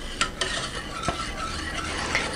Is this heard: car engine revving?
no